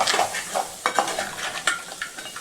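Crabs are stirred through masala in a frying pan, a scraping, clattering stir over a steady close sizzle, with sharp utensil knocks at irregular intervals and no talking.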